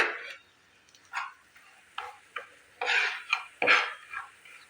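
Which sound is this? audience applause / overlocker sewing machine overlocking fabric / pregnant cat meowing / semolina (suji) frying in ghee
semolina (suji) frying in ghee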